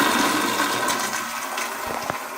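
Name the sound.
high pressure toilet flush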